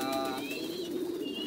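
Thai pigeons kept for breeding give a low, rolling coo that hums on steadily at close range, with faint bird chirps and background noise around it.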